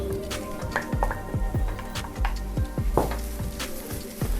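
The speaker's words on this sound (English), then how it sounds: "I'm gonna go ahead and add my mushrooms." Shiitake mushrooms hit hot garlic in a pan with a close crackling sizzle, while a spatula stirs them in a steady run of scraping knocks.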